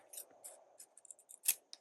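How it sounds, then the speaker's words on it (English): Scissors snip through a thin book page in a run of about ten quick, close cuts, with one sharper, louder snip near the end and no talking. "this is too tall, so I'm going to trim that off"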